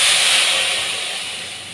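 Kadhi being tempered in a pan, a steady loud sizzle and hiss that fades gradually, with no talking.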